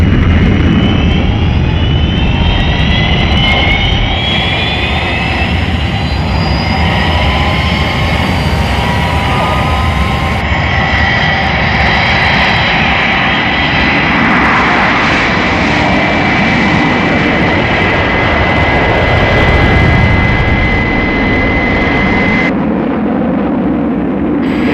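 Fireflash jet airliner taking off at full power, a loud sustained jet engine roar with rising whine tones that swells and holds steady throughout, dense and close with no voices.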